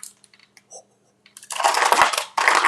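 Coffee ice cubes crack and crunch loudly as an old-style plastic ice cube tray is twisted, in two long bursts of crackling after a few small scattered ticks and clicks.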